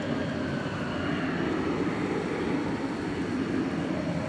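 An American Airlines jet on the ground at DFW Airport Terminal D, bound for London Heathrow, with a steady, loud engine roar and broadband rumble holding even throughout.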